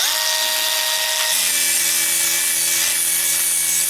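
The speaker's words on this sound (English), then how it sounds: "Very impressed with the sanding pad. And it's only 120 grit." A Bosch Easy Cut&Grind power tool fitted with a 120-grit sanding pad works across weathered wood, giving a steady, close abrasive rasp over a constant motor whine that deepens in pitch partway through.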